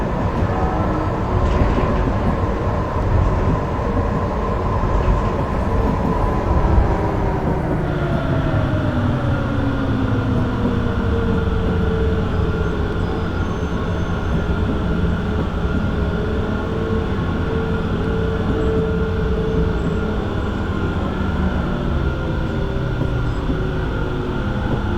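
A tram in the Frankfurt Tram Simulator video game runs along the track and brakes as it nears a station, a continuous loud rolling rumble with a falling, whining brake tone and no talking.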